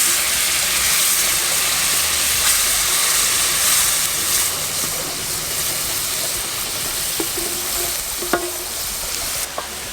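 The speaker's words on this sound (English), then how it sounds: "So what I'm doing here is to deglaze the bottom of the pan." Steady, loud sizzling and stirring from a pan being deglazed after frying bacon, cooked outdoors in Jamaica, with a few faint clinks near the end and no talking.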